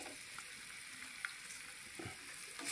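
Cumin powder and ginger garlic paste fry in hot oil with a constant close sizzle and a few soft stirring knocks, no voices.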